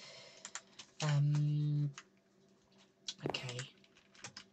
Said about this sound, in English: need to get a razor blade mechanical keyboard, will make less noises